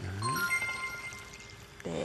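Leftover water is poured into a boiling pot of kimchi stew, making a soft splashing pour with light clinks of utensils while people talk over it.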